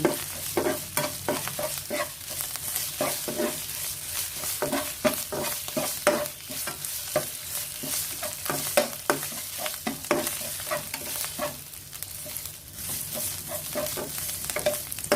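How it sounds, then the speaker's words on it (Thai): Thai curry paste stir-fried in a pan before pangasius catfish goes into a jungle curry: a close, steady sizzle with rapid repeated spatula scrapes and knocks throughout, and no talking. "จะผัดพริกแกงให้หอมก่อนนะคะ"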